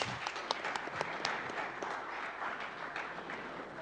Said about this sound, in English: Second try, guys. Everybody clap.